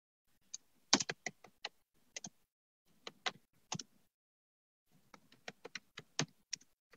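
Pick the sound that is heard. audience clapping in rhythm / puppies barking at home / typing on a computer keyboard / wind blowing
typing on a computer keyboard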